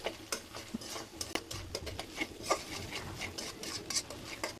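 Noodles tossed with spice mix in a wok, a busy run of quick ticking, scraping spatula strokes over a faint frying hiss, close and fairly quiet with no voices.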